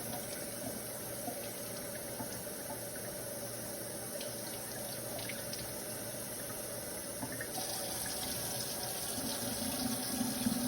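Water from a sink tap runs steadily into a container, filling it to about a litre; a continuous broadband rushing that stays even throughout and grows slightly fuller near the end, with no talking.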